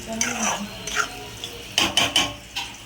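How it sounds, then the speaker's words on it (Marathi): Masala stirred in a pan with a spoon, a string of scraping clinks and metallic taps in an uneven rhythm, close and fairly loud. "हलवत राहूया थोडंसं म्हणजे ह्याला तेल सुटेल"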